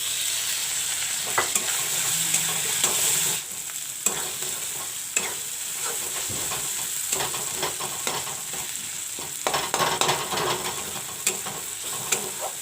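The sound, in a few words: chopped tomatoes frying in pan for cabbage curry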